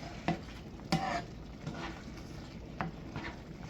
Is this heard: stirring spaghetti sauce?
yes